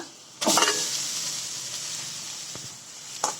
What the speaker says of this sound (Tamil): இதை நல்லா கிளறி விட்டுக்கோங்க.